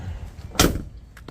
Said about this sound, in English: let me close the door on the truck